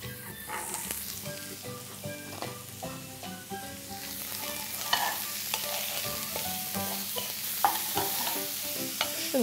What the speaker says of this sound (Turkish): Mantarları da atayım.